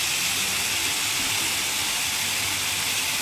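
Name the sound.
large flow of water falling from village pond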